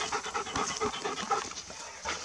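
A dog tired from chasing wild boars pants rapidly and steadily up close, breathy, continuous and fairly loud, with faint outdoor background and no speech.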